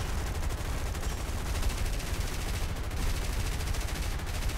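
Defensive gunners aboard a Sunderland Mk. V flying boat in War Thunder fire in sustained rapid machine-gun bursts, a dense continuous rattle that holds steady throughout with no talk.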